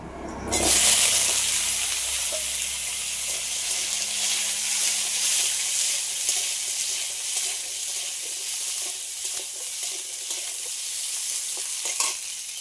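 Chopped hog plums tossed into hot oil with mustard seeds and black cumin, bursting into a loud, steady sizzle that continues throughout, with faint stirring scrapes.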